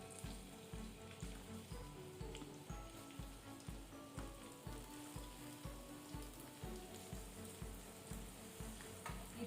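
Onions fry in hot coconut oil and ghee for a tempering in a Mangalore-style chicken sukka, a soft, continuous sizzle with regular rhythmic pulses like stirring, quiet and with no voices.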